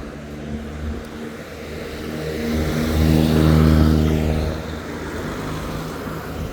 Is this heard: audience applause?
no